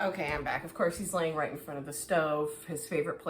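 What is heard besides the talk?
No everyday noise stands out behind the speech.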